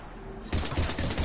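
Heavy gunfire from the video game Mass Effect 3 breaks out after a brief quiet lead-in, then continues as dense, loud, rapid overlapping bursts of shots to the end.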